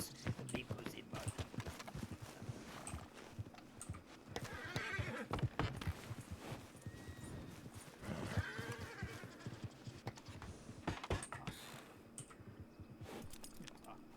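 A video-game horse neighs and whinnies with clip-clopping hooves, under a continuous mix of game background sound and occasional voices.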